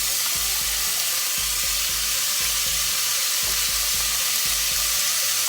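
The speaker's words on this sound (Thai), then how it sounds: "ใส่กะทิลงไปนะคะ" Coconut milk poured into sizzling curry paste for a spicy Thai beef curry, giving a loud, steady hiss and crackle of hot liquid with a soft rhythmic beat beneath.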